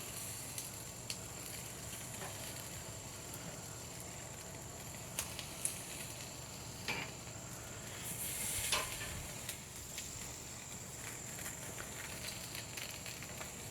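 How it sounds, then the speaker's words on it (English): Lamb fat renders and sizzles over a charcoal grill's flames, a steady close crackling hiss with scattered pops and a brief flare-up swell, no talk. "when that flame starts to jump up, you know that fat's starting to render down"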